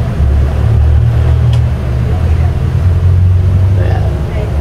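Compressor motor of a water dispenser that will not cool water, a loud, steady low hum with a faint rattle, close by, with a voice speaking over it.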